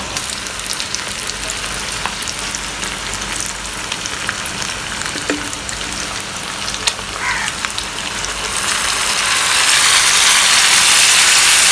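Vinegar and roasted dry masala spices hitting hot oil for an Indian chicken pickle, a steady crackling sizzle with scattered pops that swells louder and hissier toward the end.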